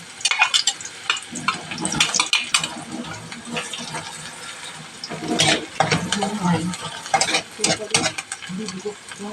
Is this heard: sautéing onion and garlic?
yes